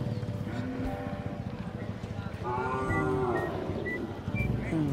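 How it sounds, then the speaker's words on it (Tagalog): A water buffalo and cattle at a morning livestock gathering give low, drawn-out moos, with hoof clops and people talking nearby. "Kalabaw at saka 2 baka."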